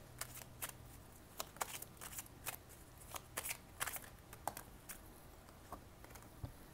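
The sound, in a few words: drawing and shuffling tarot cards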